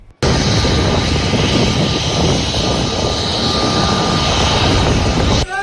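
A passenger airplane arriving at an airport and met with a water salute gives off a loud, steady engine roar close by that holds throughout, then cuts off abruptly.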